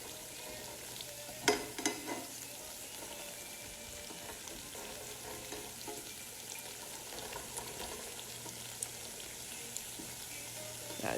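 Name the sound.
food frying in pan for arroz con pollo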